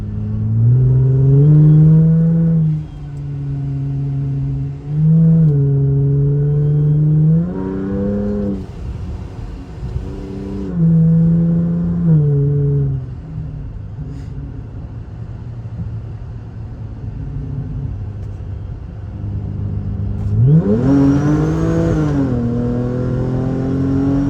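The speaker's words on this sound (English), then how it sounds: "I can still feel the wheels spinning, man, when it's in boost." A car engine revs hard and accelerates under turbo boost, loud and close from inside the cabin, with repeated rising surges, gear-change dips and a final strong pull, no talk over it.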